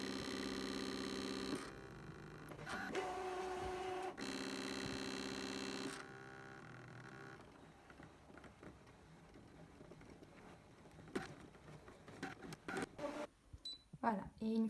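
A Scan n Cut machine cuts flex: loud whirring motor passes with steady tonal hum start and stop in bursts early on, then fainter mechanical clicks and movement while a person talks over it.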